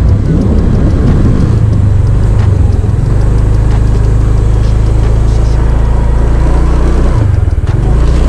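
Motorcycle engines rumble near a river bridge, a loud, close, continuous low drone with a steady pulse that barely lets up, briefly dipping near the end.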